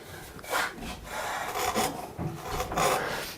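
Veiner carving chisel pushing through wood, several short rasping cuts in an uneven rhythm, close and fairly quiet, with no talking.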